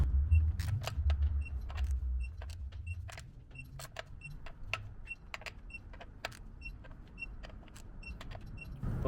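A torque wrench tightening a 22RE engine's crank pulley bolts to 80 foot-pounds gives a series of sharp, evenly spaced ratchet clicks, close and fairly quiet, over a low background hum.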